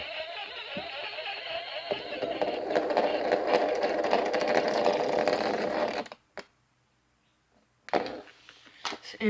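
A spinning toy gives off a strange, steady mechanical whirring, a loud buzz that holds for about six seconds, then cuts out to near silence before brief bursts of noise return.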